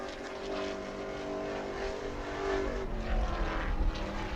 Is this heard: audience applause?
no